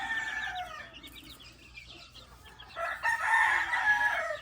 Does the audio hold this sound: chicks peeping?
yes